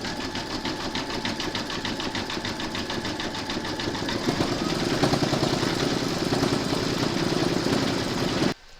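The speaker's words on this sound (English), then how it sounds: "Pop your hoop into your machine and stitch round number 6, and that's going to zigzag these raw areas here." Embroidery sewing machine zigzag stitching raw edges of a large gnome applique in a hoop, a steady rapid mechanical whirr with fast needle ticking that grows slightly louder partway through, then stops abruptly.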